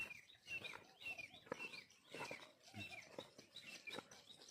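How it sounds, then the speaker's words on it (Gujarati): Birds call around a farm field: several short chirps and whistled calls come at uneven intervals, moderately faint and mid-distance, over a soft outdoor background. "ક્યાંક મોરનો અવાજ આવે બીજા પક્ષીનો અવાજ આવે"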